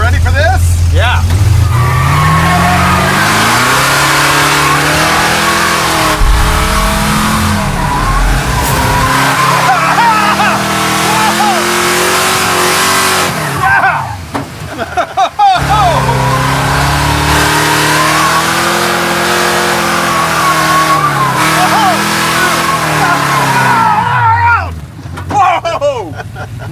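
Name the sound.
boosted 1940 Ford car accelerating hard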